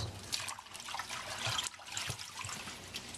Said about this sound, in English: we rinse them in a bowl of water